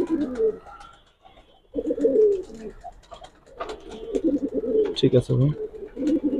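Giribaz racer and coloured pigeons coo repeatedly in a loft, with rolling throaty calls close by and someone speaking briefly among them.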